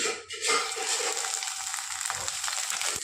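Tomatoes frying in hot oil for a vegetable bharta, giving a steady broadband sizzle that starts with a short dip and then holds fairly loud. Faint stirring ticks run through it, with no one speaking.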